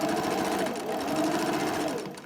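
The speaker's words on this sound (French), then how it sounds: "je vais venir coudre mon molleton plié en 2, comme les 2 autres pièces de tissu." A sewing machine runs steadily, stitching through fleece folded in two for a Covid-19 protective face mask. The motor whirs loudly and close in one continuous run, with no pauses and no talking.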